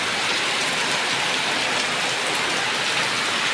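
Steady, dense rain pouring down close by, an even hiss of drops on surfaces with no pauses and no voices.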